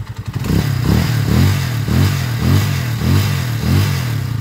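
A Honda TMX 155 motorcycle converted to a 200cc engine runs after a road test, its close, loud engine repeating a steady pulsing rev rhythm roughly every half second.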